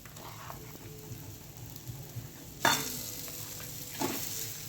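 Mashed boiled potatoes get stirred into a spiced tempering for Mumbai-style vada pav filling, with a soft frying sizzle underneath and scraping stir sounds that swell midway and again near the end.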